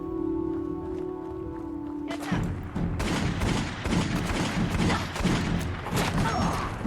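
Rapid western-style gunfire from modded weapons in Fallout 4 rattles in a dense, fast barrage, loud and close, with some game sound before the shooting starts.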